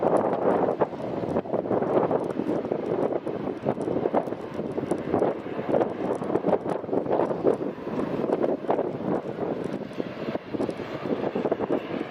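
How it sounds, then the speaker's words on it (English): Gusty wind buffets the microphone beside Edinburgh Airport's runway 24 on a blustery summer evening, a steady loud roar with rumbling surges throughout, with no voices. "As you can all probably tell by the sound of the wind, it's fairly blustery at the moment"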